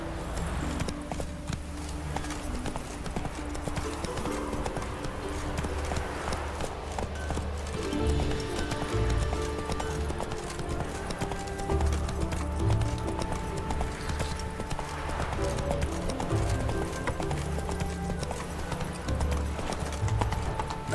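Roach, a horse in The Witcher 3, galloping with a steady rapid clip-clop of hooves over a constant game soundscape, moderately loud and without talk.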